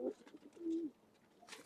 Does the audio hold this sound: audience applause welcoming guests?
no